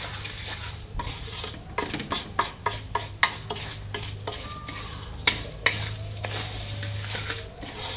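A spoon stirring and scraping ingredients in a cooking pan with steady sizzling underneath, close-up metal clinks and scrapes at irregular intervals, with no voices.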